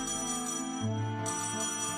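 A phone ringing in the game Trails in the Sky SC, a steady electronic tone with a lower, louder pulse in the middle, set against sustained game background music.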